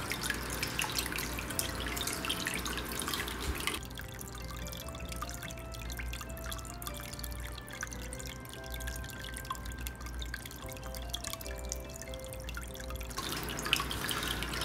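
A small DIY waterfall trickles over stones into a medaka biotope, a quiet, continuous close-up patter of dripping and splashing water with no voices.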